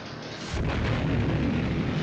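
A 6-inch naval gun salvo in a battle scene erupts after a brief quiet lead-in into a loud, sustained blast and rolling roar that fills the rest of the moment, with no voices.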